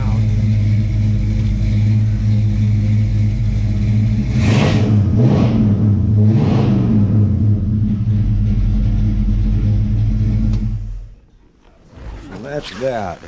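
A 1952 Chevrolet 5-window truck engine idles loudly up close and is blipped through three quick revs that rise and fall, then it drops away and a short rev-like burst follows near the end.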